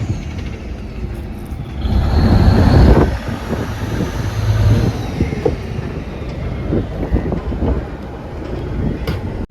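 A fishing boat's engine runs as the vessel heads out from the harbor to sea, a loud, continuous mechanical rumble that surges briefly and then settles into a steady drone.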